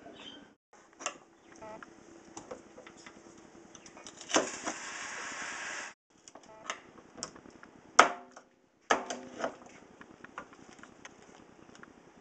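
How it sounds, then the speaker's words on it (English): A knife chops fresh celery on a cutting board for cornbread stuffing, giving scattered sharp taps with short pauses between and a couple of louder bursts, close by, with no talking. "A bag of celery over here, fixing to cut that up."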